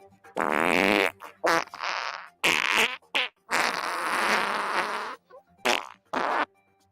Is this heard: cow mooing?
no